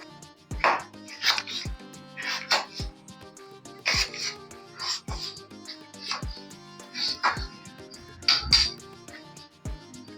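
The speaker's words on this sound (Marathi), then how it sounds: "आता आपण आलू कट करून घेऊयात. आलूच्याही मोठमोठ्या फोडी करायच्या आहेत ना." A knife chops potatoes into large pieces on a board, giving a steady series of separate, crisp thuds about one per second, close up and fairly quiet, with faint background music.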